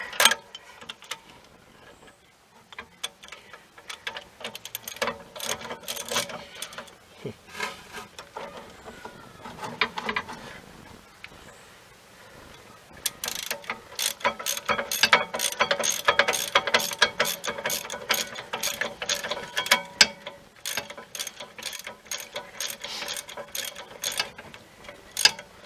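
Ratchet spinning on the rear brake caliper carrier bolts of a BMW 1 Series, giving long runs of rapid, close clicking that pause briefly and then speed up into dense bursts, with no talking.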